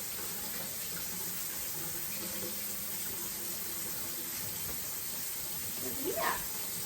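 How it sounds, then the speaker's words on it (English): Washing hands under a running kitchen tap, a steady loud rush of water throughout with a brief voice near the end. "I gotta wash my hands, bud."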